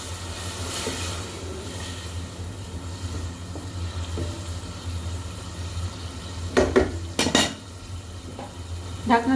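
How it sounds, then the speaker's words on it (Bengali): Surgeonfish frying in a pan with sponge gourd, a steady sizzle under scraping and clinking stirring strokes, with sharper spatula hits near the end. "এখন মাছগুলো সুন্দর করে কষিয়ে নিব।"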